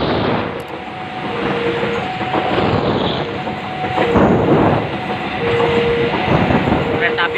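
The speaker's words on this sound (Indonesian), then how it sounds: "Kereta api Bogowonto ini merupakan relasi kereta api dari stasiun Lempuyangan menuju stasiun akhir Pasar Senen" The Bogowonto passenger train, running from Lempuyangan to Pasar Senen in Indonesia, rolls past nearby with a continuous rumbling roar and clattering wheels, while a voice speaks over the noise.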